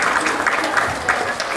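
An audience at a magic show applauds after a rope trick, a steady wash of many hands clapping together, close and fairly loud, with no voices over it.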